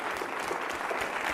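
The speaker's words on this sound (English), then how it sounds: "Can we give one more round of applause to all of the amazing speakers that were here this year?" A conference audience claps for the event's speakers, a short burst of dense, even applause that is moderately loud and steady, with no voices over it.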